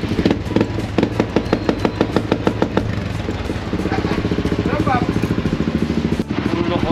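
A 2023 Yamaha NMAX V2 scooter fitted with an adjustable JVT V3 exhaust pipe idling up close, a loud steady low rumble with a rapid popping pulse and slight irregular pops.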